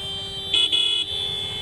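A car horn honks in road traffic, two close bursts in quick succession over a low steady hum of engines.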